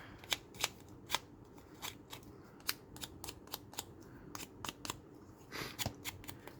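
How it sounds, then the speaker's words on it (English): Scissors cut a corner off a card with a quick run of crisp, close snips, some spaced apart and some bunched together. "Next, I'm going to cut a corner off just to make it look even more distressed."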